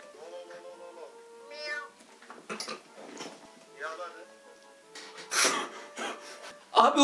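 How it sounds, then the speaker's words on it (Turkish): A cat meows several times in short, rising calls, with people talking around it and a louder burst near the end. "3 kere Lolo deyince miyavlıyor"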